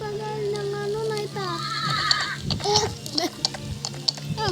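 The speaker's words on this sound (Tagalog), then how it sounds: "Ang kabayo." A horse neighs in the video game 99 Nights in the Forest, a loud wavering whinny over ambient game noise, followed by hoof clip-clops and clicks while players talk.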